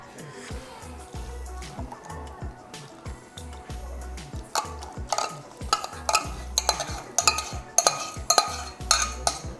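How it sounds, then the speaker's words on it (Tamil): Jaggery being stirred into sweet sakkarai pongal, a spoon knocking the pot in a steady rhythm over a soft bubbling, wet simmer, growing louder and more vigorous toward the end, close and alone without talk. "இப்போ நம்ம வந்து வெல்லம் போட்டு நல்லா மிக்ஸ் பண்ணியாச்சு"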